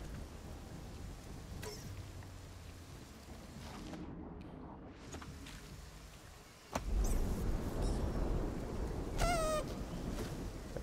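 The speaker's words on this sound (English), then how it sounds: "We didn't anticipate it raining this much down here" Heavy rain hisses steadily in Yoku's Island Express, a game, with a short quiet gap midway before the downpour returns louder, alongside a few brief chirpy game sounds.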